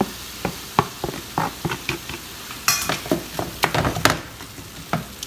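Eggplant being stirred in a pan for a spicy Kathiyawadi dish, with repeated sharp clinks and scrapes of a spoon against the pan over a steady sizzle of frying, close and fairly loud, no talking.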